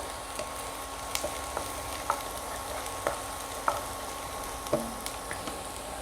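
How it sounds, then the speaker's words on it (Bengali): Oil frying in a pan for a dhaba-style paneer bhurji, just before chopped capsicum goes in: a low, steady sizzle with scattered small pops and crackles, fairly quiet and close. "এটা একটু ভেজে নিয়ে দেব ক্যাপসিকাম"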